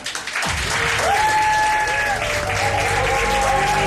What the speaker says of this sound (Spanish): pedir un aplauso para él